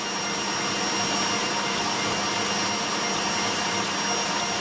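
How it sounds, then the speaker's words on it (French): An electric whisk beats cream into chantilly for a strawberry pavlova, giving a steady, loud, unbroken motor whir with a broad hiss that holds level throughout. "Et je fouette. Quand ça devient la chantilly, je vais rajouter des graines de vanille."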